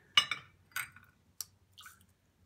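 Soaked, swollen mustard seeds being strained, with water dripping and trickling in a few short, close, soft bursts and splashes against quiet background.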